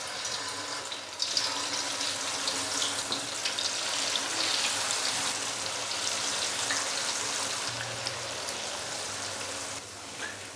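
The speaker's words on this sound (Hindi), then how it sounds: "ऑयल अच्छे से गर्म हो चुका है तो अभी मैं इसके अंदर चिकन के जो पीसेस हैं वो फ्राई होने के लिए डालूंगा" Chicken pieces fry in hot oil with a bright, continuous sizzle and crackle, loud and close, holding steady for about ten seconds with a few brief pops and surges and no talking.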